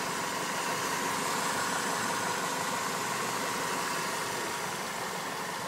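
A 2006 Nissan Micra's 1.2-litre engine idles with a steady, loud, even hum and hiss, unchanging throughout with no talking.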